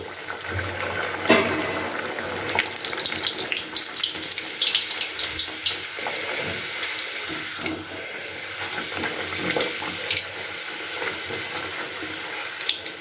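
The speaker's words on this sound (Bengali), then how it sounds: "এবার এক এক করে আমি এই কচুরিগুলোকে ভেজে নিচ্ছি" Moong dal stuffed kachoris fry in hot white oil, giving a continuous watery bubbling hiss with irregular crackles and occasional sharper pops and spatters close by, with no talk.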